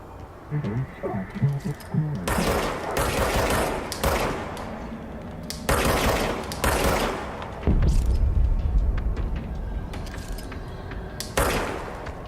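Gunshots from the player's weapon in the Control video game: several separate bursts of loud sharp fire spaced a few seconds apart, with someone talking quietly between and under them.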